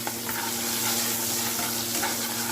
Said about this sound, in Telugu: ఈ రెండు కలిపి వేసేసుకున్నాం వేసుకొని లైట్గా మనం ఫ్రై చేద్దాం